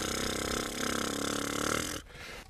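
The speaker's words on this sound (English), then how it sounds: "We want to try to slow that buzz down and make it more of a." Didgeridoo played with a deliberately slowed lip buzz, giving a loud, continuous low drone with a rough pulsing texture for about two seconds before it drops off and fades.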